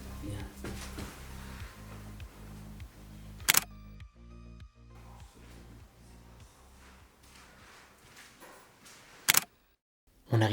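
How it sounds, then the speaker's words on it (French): A camera shutter snapping a photo inside an abandoned factory, with two sharp clicks several seconds apart amid faint background noise. "Ça mérite une petite photo."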